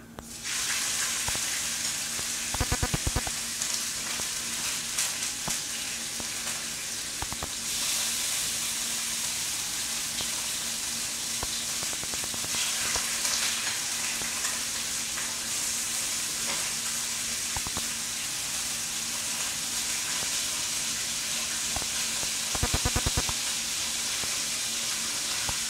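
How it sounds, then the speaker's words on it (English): Strips of cheap sirloin beef fry in hot oil with a steady, loud, bright sizzle that holds for the whole stretch, with a few brief stirring or crackling bursts rising above it. "Somehow I'm not gonna just dump the meat into that hot oil, but I am going to put it in very quickly and very safely."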